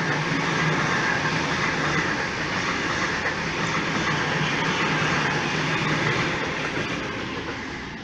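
A suburban electric train, a Sydney Oscar set on the up main line at Macdonaldtown, rumbles past nearby with a continuous loud roar and rattling wheels, fading slightly toward the end.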